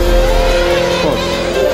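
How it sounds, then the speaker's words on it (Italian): A race car's flywheel spins with a loud, steady mechanical whir and drone that holds constant throughout, with no talking. "Sentite il volano come gira? È rotto?"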